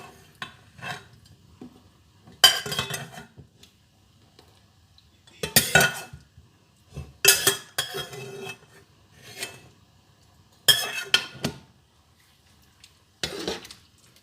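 A spoon stirs potatoes, rice, minced meat and canned beans in a pot, giving repeated scraping, clanking strokes in separate bursts with quiet gaps, close and moderately loud.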